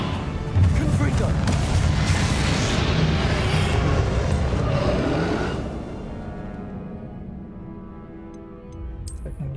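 Confringo explosive spell blast in Hogwarts Legacy: a loud, broad roaring burst that holds for several seconds, then fades into a quieter tail, with a short sharp sound near the end.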